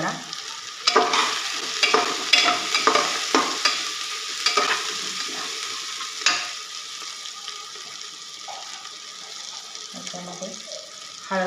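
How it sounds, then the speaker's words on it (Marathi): Chopped green chillies and curry leaves sizzle in hot oil in a pan while making dal khichdi, a steady crackling fry with repeated stirring clatters, and someone talks over it. "त्याच्यामध्येच मी तीन हिरव्या मिरच्याचं बारीक करून टाकते त्याचबरोबर कढीपत्त्याची पानं पण घालते"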